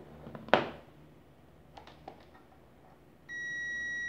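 A high-voltage tester gives a steady electronic beep that starts near the end and holds, after a few clicks and handling knocks at close range.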